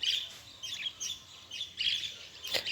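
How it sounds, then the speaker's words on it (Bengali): Repeated high, raspy cockatoo calls in short bursts with brief pauses between them, moderately near and not very loud, at Adina Forest in Malda. "এটা হচ্ছে কাকাতুয়া"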